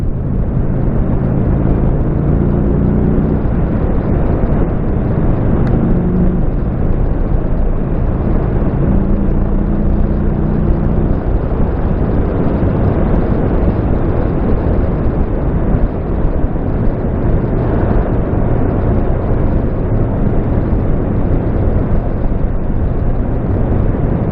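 A Buell motorcycle engine droning steadily and loudly while riding through the countryside of northern France, a constant close rumble that holds throughout, with no talking.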